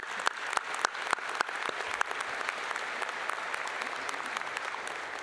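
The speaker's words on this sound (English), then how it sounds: "Please join me in a round of applause." Audience applause at a College of Veterinary Medicine commencement ceremony at Iowa State University, a steady wash of many hands clapping with a few sharp, louder claps standing out early on, sustained evenly throughout.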